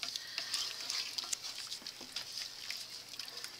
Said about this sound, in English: Lot of stirring, lot of stirring.